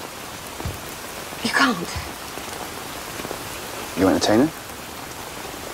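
Steady rain falls in a continuous soft hiss, with people talking briefly over it.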